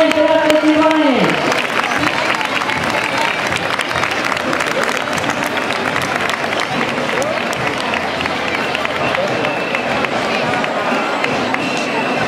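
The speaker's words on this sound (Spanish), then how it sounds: "Un fort aplaudiment de les testimonies." Crowd applause at a Falla San Antonio ninot parade in Paiporta, sustained dense clapping and cheering that follows a brief amplified voice, loud and steady throughout.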